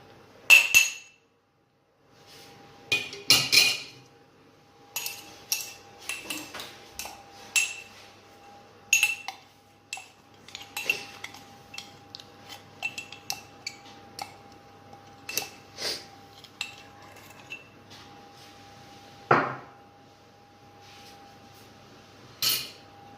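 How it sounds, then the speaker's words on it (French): Butter and icing sugar are worked together in a bowl: scattered, sharp clinks and taps of a utensil against the bowl, irregular and fairly close, in an otherwise quiet kitchen. "نبداو نخدمو الزبدة مع السكر glace"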